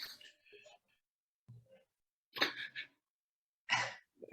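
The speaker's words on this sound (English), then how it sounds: "Sorry, I'm going to sneeze." A sharp, breathy sneeze bursts out close to the mic, with a couple of quick breaths and faint sounds around it before and after.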